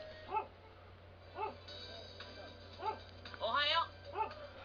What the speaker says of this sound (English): that stupid dog had to bark the second, and I mean the instant second I pressed the record button